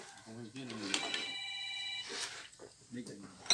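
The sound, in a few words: telephone ringing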